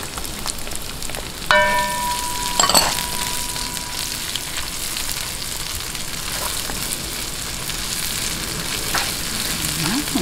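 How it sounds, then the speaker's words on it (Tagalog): Onions sautéing in hot oil for tinola sa gata, a continuous bright sizzle heard up close, with a brief metallic clink near the start and occasional soft stirring. "umpisahan na po natin yung paggigisa"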